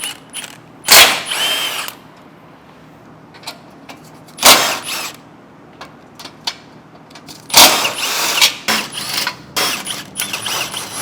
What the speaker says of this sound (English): you're gonna need a 14 millimeters with an extension and an impact or a wrench